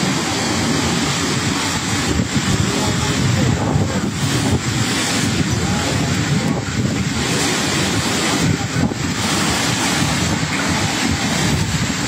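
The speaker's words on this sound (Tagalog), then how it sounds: "Gabahay yung laki ng mga alon dito ngayon sa tapat namin" Big ocean waves crash and roar continuously at the shore, loud and full, with heavy wind buffeting the microphone throughout.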